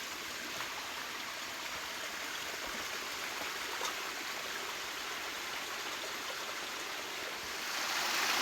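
A mountain river stream runs steadily through a forest, a continuous close rush of water with broadband splashing and no voices, swelling slightly louder near the end.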